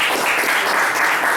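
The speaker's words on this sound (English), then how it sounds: "I appreciate the applause" Dense applause from an audience at a Puna candidate forum, a steady wash of many hands clapping at close range, sustained and even for the whole moment with no talk over it.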